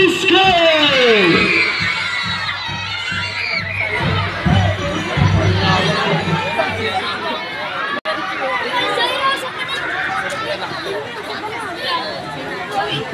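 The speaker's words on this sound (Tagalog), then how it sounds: "wala bang sigawan na magmumula sa Tambubong Elementary School?" An elementary school delegation shouts and cheers at a district athletic meet, a dense roar of children's voices and crowd chatter, loud and continuous, with an announcer's voice over the noise.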